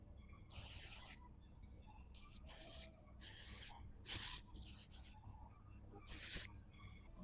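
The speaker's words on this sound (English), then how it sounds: "you're just going to lift your hair and spray it throughout" Heat protection spray misted onto lifted hair, several short hissing bursts from a spray bottle at irregular intervals, close and fairly quiet, with no talk.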